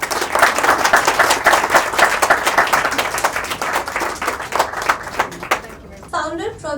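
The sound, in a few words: audience applause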